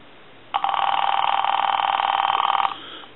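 The ringer of an AT&T 530 Trimline telephone, fitted with the wrong ring-cycle IC, sounds one continuous electronic trill for about two seconds. The ring is loud and close, then cuts off cleanly in a quiet room.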